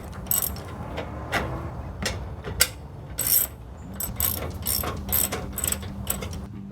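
A hand ratchet clicks in short bursts while bolts are started on a steel rear bumper of a 2009-2018 RAM 1500, crisp close pawl ticks with brief pauses between strokes.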